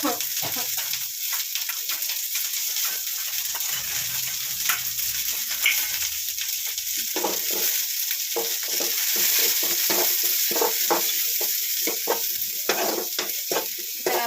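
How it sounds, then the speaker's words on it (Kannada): Onions fry in oil for a snake gourd gojju, a loud close sizzle with frequent scraping stirs and clattering spatula strokes, while faint voices murmur in the background. "ಚೆನ್ನಾಗಿ ಫ್ರೈ ಮಾಡ್ಕೋಬೇಕು ಈರುಳ್ಳಿ ಎಲ್ಲ ಬ್ರೌನ್ ಕಲರ್ ಬರಬೇಕು"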